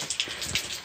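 Heavy rain pours steadily around a 2022 CFMOTO 700CL-X Heritage on the road, a dense continuous hiss with a few louder gusts and splashes, loud and close, with no voices.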